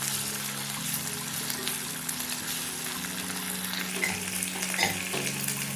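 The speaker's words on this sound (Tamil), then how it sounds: "அடுத்ததாக இஞ்சி பூண்டு பேஸ்ட், இதோட பச்சை வாசனை போகட்டும்." Ginger garlic paste sizzles in a pan with onions and green chillies, a constant frying hiss with occasional stirring scrapes, close and moderately quiet.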